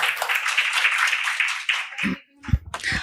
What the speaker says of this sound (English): A round of applause for Oscar.